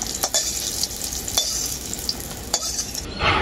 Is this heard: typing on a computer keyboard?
no